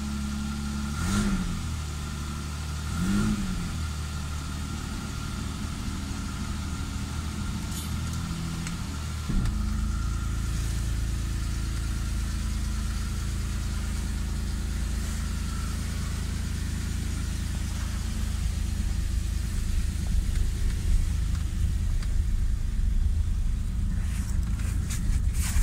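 An engine runs and idles nearby, a steady rumbling drone with a couple of brief revs early on, then settling into a continuous even idle that grows slightly rougher toward the end.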